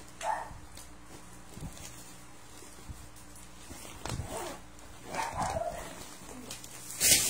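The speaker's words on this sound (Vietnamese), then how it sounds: "Nó sủa ai vậy trời." A dog barks in short scattered bursts at moderate distance, a few yips spread across several seconds in a quiet indoor room with faint rustling in between.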